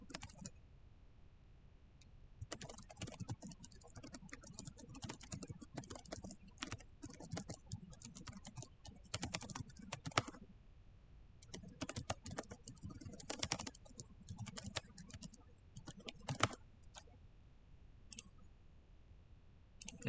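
Code typed on a computer keyboard: fast, close, quiet clicking keystrokes in irregular bursts, with short pauses between runs and no talking.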